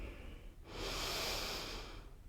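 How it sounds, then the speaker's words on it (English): A slow, deep inhalation through the nose, close and soft, rising after a short pause and fading out, in a quiet room. "let's just start by taking some nice deep breaths in through our nose"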